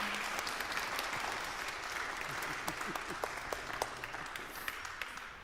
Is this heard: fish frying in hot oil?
no